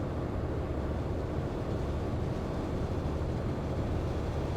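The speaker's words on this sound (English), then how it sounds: "That's the sound of our trailer rattling back there," Trailer rattle behind a Volvo VNL truck in American Truck Simulator, a steady low rumbling, rattling road noise that holds constant throughout with no talk over it.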